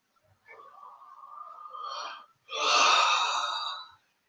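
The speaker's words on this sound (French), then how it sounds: "On inspire, on expire." Deep breathing in and out during a qi gong session: a long, steady inhale that swells over about two seconds, a short pause, then a louder, breathy exhale, close and alone.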